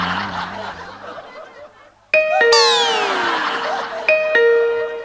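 A two-tone ding-dong doorbell chime rings out clearly, then sounds again a couple of seconds later, each strike ringing on and decaying, following a short stretch of people talking.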